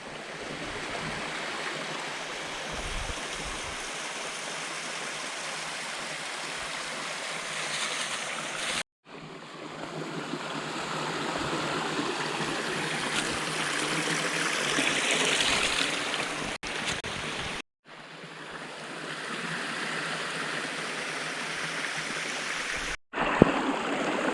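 Small stream flowing along the Appalachian Trail, a steady broad rush of running water heard up close, briefly cut off by a few abrupt gaps, with no talk.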